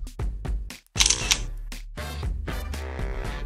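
Camera shutter clicks for an outdoor selfie in a city neighbourhood, several quick bright clicks in a burst between voices, with people chatting warmly around it.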